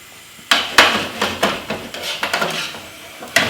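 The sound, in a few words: stirring avocado into warm mango salsa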